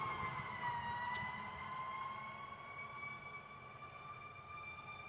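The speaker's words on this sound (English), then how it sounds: "Fire engines." Fire engine sirens wail steadily in the distance, a sustained rising and falling tone that drifts past over a low hum of traffic, with no talking.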